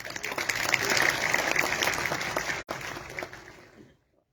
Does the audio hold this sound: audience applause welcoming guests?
yes